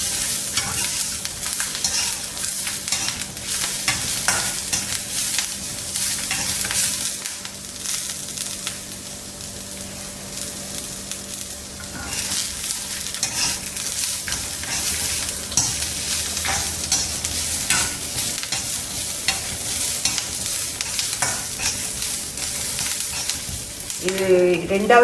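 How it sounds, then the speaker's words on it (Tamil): Onion and coconut are stirred and sautéed in a second pan, giving a steady close sizzle overlaid with constant scraping of the spoon against the pan throughout. "இது 2வது சட்டியில் வதக்கிறதுனால கொஞ்சம் வதங்கினா போதும்"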